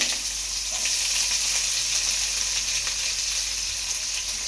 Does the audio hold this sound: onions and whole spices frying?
yes